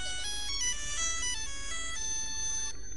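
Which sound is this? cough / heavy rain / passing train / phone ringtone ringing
phone ringtone ringing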